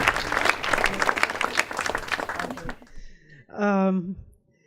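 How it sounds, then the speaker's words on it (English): A crowd applauds with dense clapping that fades out, followed by a brief voice. "please can you give him a big hand of applause"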